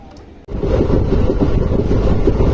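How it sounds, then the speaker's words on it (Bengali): A train bound for Ramanathapuram in southern India rumbles loudly with steady low clatter after a brief quieter moment, close and continuous with no voices. "এই যে আমাদের ট্রেন"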